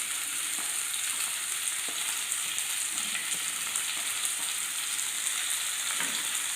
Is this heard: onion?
yes